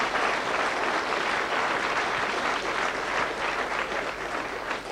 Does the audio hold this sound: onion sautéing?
no